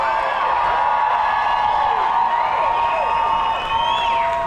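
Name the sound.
crowd applause and cheering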